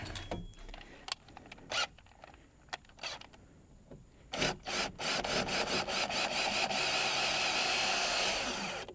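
A drill bores out a rivet head on the broken inside door handle of an older GM Chevy truck: intermittent short grinding bursts, then a loud continuous rasping whine as the bit keeps spinning on the rivet.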